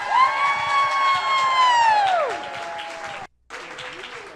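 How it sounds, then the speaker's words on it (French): Audience applause at a lecture event, sustained clapping mixed with cheering and a long rising whoop, cut off briefly before the clapping resumes. "on applaudit pour 127 personnes"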